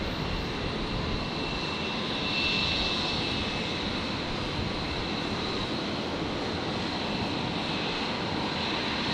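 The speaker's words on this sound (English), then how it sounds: "The Qantas Link E-Jets there, soaking up the last of the light here today in Brisbane." QantasLink Embraer E-Jet engines at Brisbane airport at sunset: a steady, broad aircraft engine roar with a faint high whine, holding constant and moderately distant throughout.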